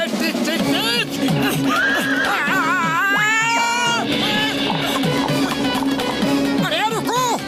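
A cartoon horse whinnies in a bright, wavering call that rises and falls, heard clearly over lively speech and background music throughout.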